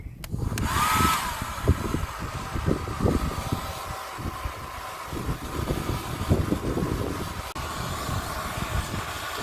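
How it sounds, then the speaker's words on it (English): A hair dryer on a low setting blows with a steady, breathy whoosh throughout, close by, drying a chicken's clumped feathers, with occasional soft thumps and rustles mixed in. "I'm going to use the hairdryer on a low setting so that I get rid of the worst of the moisture"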